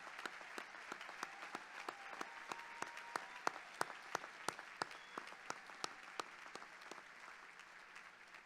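At an undergraduate commencement, the audience applauds the faculty with sustained, faint, distant clapping from a large crowd, individual sharp claps standing out across the steady patter.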